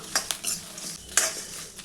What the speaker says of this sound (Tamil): அந்த புளியோடைய பச்சை வாசனை போகிற அளவுக்கு வதக்கிக்கலாம்.